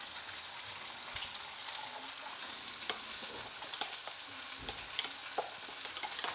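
Chicken fries in a pan for a chicken panang curry with a steady, bright sizzle and crackle, punctuated by small pops and an occasional scrape of stirring, heard close up with no voices.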